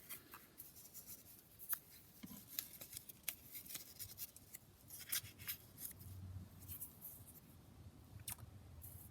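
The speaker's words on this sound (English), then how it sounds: "Just tear that piece off." Paper being torn by hand for a collage page, with scattered crisp rips and rustles close to the microphone over a low background rumble, no talking.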